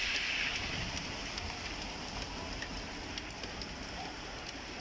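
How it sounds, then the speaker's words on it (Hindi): Steady winter rain falls on a surface in Italy, a continuous soft patter with occasional distinct drops, fairly close and unbroken by voices. "लगी हुई है बारिश।"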